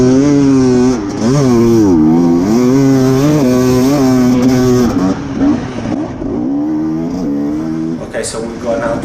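An enduro motorcycle at full throttle in third gear during the Erzberg Rodeo race, engine screaming loud and close with rising and falling revs, a continuous buzzing roar throughout.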